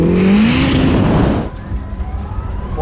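Ferrari SF90 or Rimac Nevera launching hard in a drag race, a loud rising whine surging past and then cutting away abruptly, leaving lower wind and rumble.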